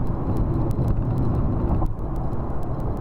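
A Honda Fit e:HEV compact hybrid cruises along an expressway, with a continuous interior road and engine drone, a faint ticking pulse above it and a slight dip near the end.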